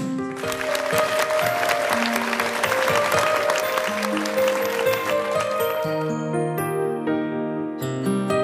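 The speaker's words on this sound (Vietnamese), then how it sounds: "Mời quý vị chúng ta dành một tràng pháo tay để cổ vũ." Audience at a televised singing competition final claps steadily under musical accompaniment, with applause running throughout.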